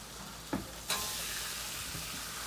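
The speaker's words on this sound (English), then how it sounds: "I'm over here flipping the sausage." Sausage sizzles steadily on a Blackstone griddle, the frying hiss swelling as the links are flipped, with a couple of sharp scrape-and-turn bursts early on, close and fairly loud with no talking.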